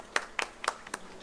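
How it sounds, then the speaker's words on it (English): Four separate hand claps at a primary school quiz competition, spaced and close, sounding more like a single person than a full applause. "Can you give yourselves a round of applause?"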